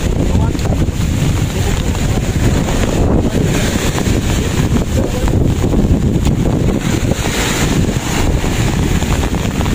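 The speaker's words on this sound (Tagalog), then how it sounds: "Kasi yan, lakas-lakas ng alon," Strong sea waves rumble and crash at the shore under blustery wind buffeting the microphone during stormy weather, a loud, continuous roar with no pauses; a voice speaks intermittently within it.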